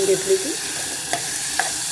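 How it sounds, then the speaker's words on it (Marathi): Coriander is stirred and fried in oil with masala, giving a soft, continuous sizzle with a few small scraping stirs, while a short spoken phrase is heard near the start. "कोथिंबीर पण थोडीशी तळून घ्यायची, म्हणजे ह्याच्यातच मसाल्यात"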